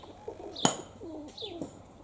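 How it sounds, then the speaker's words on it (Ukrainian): Long-flying pigeons coo nearby, a few low soft cooing phrases over a quiet outdoor background, with a sharp brief click and light chirps mixed in. "Долголетных голубей."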